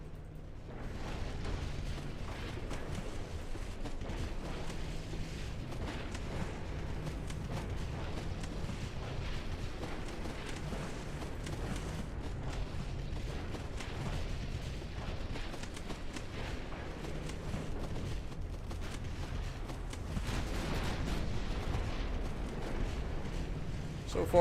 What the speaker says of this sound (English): There's a huge hit from our battleships.